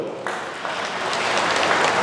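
Applause breaks out at a church gathering, building from a brief start into a fuller, steady round of clapping from the congregation that grows louder toward the end.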